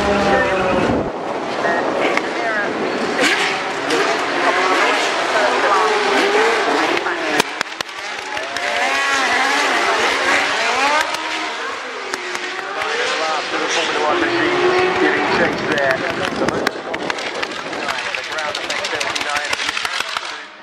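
Classic Lotus JPS racing cars and Lotus road cars run at the Goodwood Festival of Speed, engines roaring and revving loudly and continuously as cars pass, with a commentator talking over the noise.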